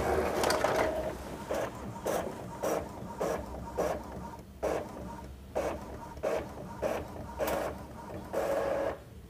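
An Epson L3151 printer runs a page, giving a steady run of short mechanical bursts about every half second, close by and fairly quiet, with no talking.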